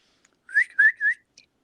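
A person whistles three quick rising chirps in imitation of a bird call, clear and close in an otherwise quiet space, followed by a faint short peep.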